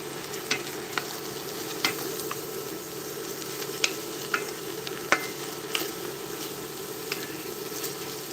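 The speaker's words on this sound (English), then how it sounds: "I'm going to just whisk that till there's no lumps" Beef pot pie filling being whisked in a pan until smooth, a soft continuous simmer under scattered sharp clicks and taps of the whisk against the pan, close and quiet, with no talking.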